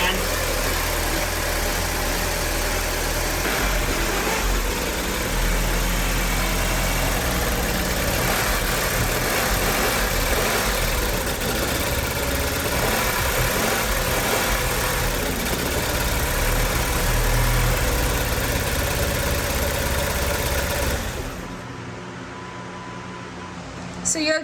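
An Audi car engine idles roughly and unevenly, a steady low rumble with some wavering that runs close and loud for most of the stretch before dropping away near the end.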